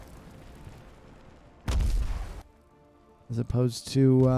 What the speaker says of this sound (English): Using those mortars, starting off with one mortar and one standard soldier.